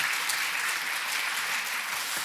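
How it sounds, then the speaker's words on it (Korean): A church congregation applauding during a Sunday worship service, a brief steady burst of clapping from many hands. "박수로 환영하겠습니다"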